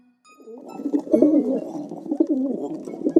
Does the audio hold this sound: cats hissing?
no